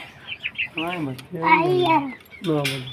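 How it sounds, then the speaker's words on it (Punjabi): An Aseel rooster and chicks cluck and call close by in a short burst of bird sounds, with talking mixed in around them. "ਇਹ ਵੀ ਬਹੁਤ ਚੰਗਾ ਕੁੱਕੜ ਹੈ"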